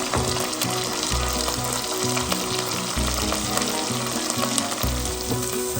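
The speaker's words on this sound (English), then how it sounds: "So I'm just adding garlic and onion. Let's saute this well." Garlic and onion sautéing in a pan for a chili garlic mushroom pepper stir fry, a steady loud sizzle throughout with low stirring knocks repeating every second or so, no voices.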